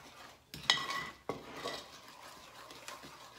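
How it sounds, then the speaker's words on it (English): A spoon scrapes baking soda and salt into a bowl of water for oatmeal raisin pecan cookie dough, giving a few brief close clinks and scrapes with a quieter shuffle between them. "he's going to scrape that to make sure he gets all his baking soda in there"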